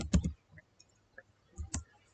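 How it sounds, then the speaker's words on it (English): Clicks from keys on a computer keyboard while entering a formula in Microsoft Access: a few short, close taps in small clusters with gaps between them. "So then I'm typing equals"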